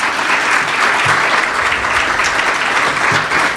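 Loud, steady applause from a sizable audience at a keynote, a dense wash of clapping hands that keeps going evenly throughout without voices breaking through.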